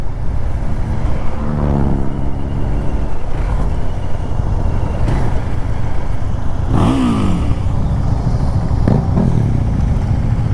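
KTM Duke 390 entry-level motorcycle riding along a damp Harwood Boulevard, a steady close engine drone with road and wind noise throughout, rising revs around two and seven seconds.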